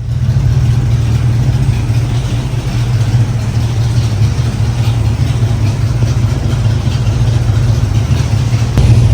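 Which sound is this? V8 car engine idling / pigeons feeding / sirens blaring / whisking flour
V8 car engine idling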